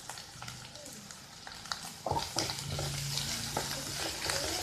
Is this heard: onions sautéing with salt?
yes